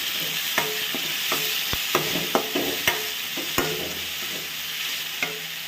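Hannu hulikaayi fruit frying in oil for uppittu, with a steady broadband sizzle and scattered sharp clicks from a spoon stirring the pan, close and alone with no voices.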